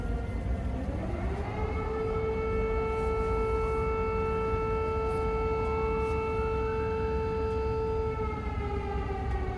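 An air raid siren in Kyiv, 2022, winds up and holds a steady, wailing tone, heard from a distance over the low rumble of a running taxi.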